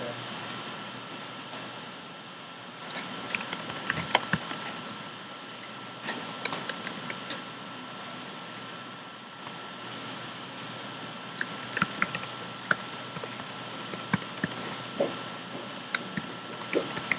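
Keys tapped on a computer keyboard in irregular bursts of sharp clicks, close and fairly clear over a steady room hum, with pauses between the clusters of typing.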